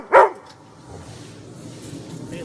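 Bailey the dog, wanting a ball thrown, lets out one sharp loud bark near the start, followed by quiet low rustling.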